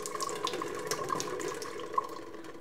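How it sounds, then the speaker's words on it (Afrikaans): Water pours from an opened tap in a steady, close splashing stream with a few brighter drips and gurgles, heard alone without talk. "Dit was 'n kraan wat oopgedraai is en toe die water uitgeloop"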